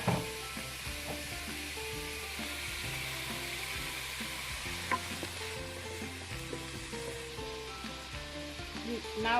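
Onion and green pepper frying in oil in a pot, a loud continuous sizzle with a low steady hum underneath and occasional stirring clicks.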